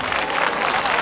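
A dense burst of clapping from a crowd at an international folk festival in Usini, Italy, loud and continuous through the whole moment.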